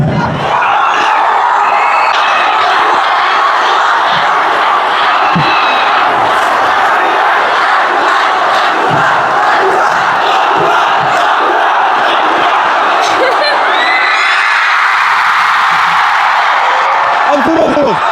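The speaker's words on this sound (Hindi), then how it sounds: "इतना जोर से चिल्ला रहे हैं दिल्ली तक आवाज चली जाएगी" A big crowd of students at a coaching meetup shouts and cheers loudly and continuously, with whoops and rising roars that swell again near the end.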